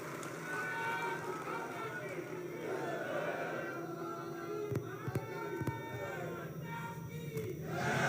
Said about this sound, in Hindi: हम सब खड़े होकर प्रधानमंत्री जी के सम्मान में ढेर सारी तालियां बजाकर समग्र देश में संदेश देंगे।